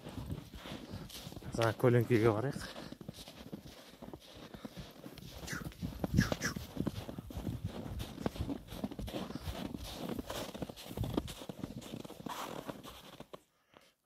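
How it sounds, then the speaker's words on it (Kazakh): A young English Thoroughbred horse walks through deep snow, its hoofbeats sounding as soft irregular thuds alongside rustling tack and clothing, while people talk nearby. "жылқы сескеніп жатыр"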